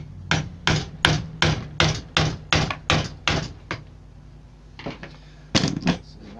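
A hammer drives a wood chisel during a DIY repair of a bandsaw fence clamp, about ten sharp, evenly spaced blows in quick succession, a pause, then a few more loud strikes close by.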